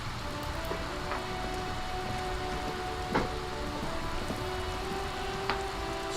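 Rain falls steadily in the video game Disco Elysium: Final Cut, an even, continuous hiss of drops on surfaces with a few faint soft thuds and no talking.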